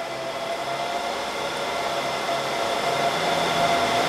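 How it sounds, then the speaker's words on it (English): Cooling fans in a Dell PowerEdge R720xd 2U rack server, running with the lid off, give a loud, steady broadband whoosh that swells slightly as they ramp up, with no voices over it. "Ramps up its fan power to make sure it's getting maximum use of its cooling and whatnot when you take the lid off"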